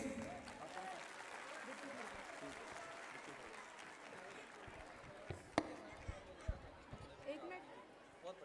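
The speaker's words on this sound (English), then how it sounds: "Please, I request every parents here to have a good round of applause for the soldiers, please." Parents at a school annual function give a sustained round of applause from a large hall crowd, a steady roar of clapping that stays distant and faint, with a few sharper claps and thumps near the end.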